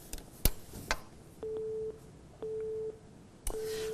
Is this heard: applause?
no